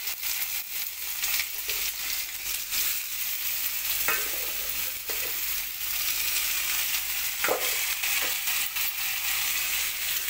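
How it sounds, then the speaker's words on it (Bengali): Sliced bitter gourd and potato frying in hot oil in a kadai, a steady close sizzle with occasional sharper crackles and stirring scrapes, no voices. "এখানে ভেজে নেবো হচ্ছে উচ্ছে আলু, তার জন্য এই যে উচ্ছে আলু কাটিয়ে দিলাম কড়াতে"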